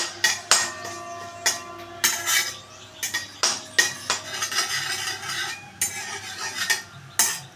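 A spatula stirs and scrapes a pan in repeated sharp metallic strokes over a low sizzle as spices fry on a low flame for kadhi pakora curry, close and loud, with no voices.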